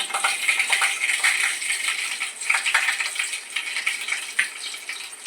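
Mustard seeds spluttering and crackling in hot oil during tempering, a dense, continuous patter of small pops and sizzles with no talking.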